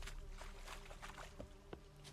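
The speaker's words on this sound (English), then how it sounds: "Oh, those are bees." Bees droning around a nest in the video game The Witcher 3: Wild Hunt, a steady insect hum that continues throughout with a few brief louder blips, heard alone without talk.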